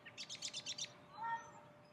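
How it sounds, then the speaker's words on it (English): A bird gives a quick run of about eight high chirps, then a softer call, faint and distant against a quiet background. "You hear all the birds?"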